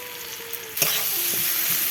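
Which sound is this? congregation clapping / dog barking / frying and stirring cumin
frying and stirring cumin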